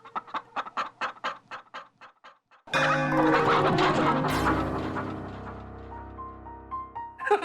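A person imitates a rooster, first with a quick run of short clucking bursts, then a loud, long, strained crow that slowly fades.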